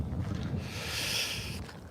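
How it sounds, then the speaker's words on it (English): Strong wind gusting outdoors and buffeting the microphone, a steady whooshing roar lasting the whole moment with no voices. "It's too windy."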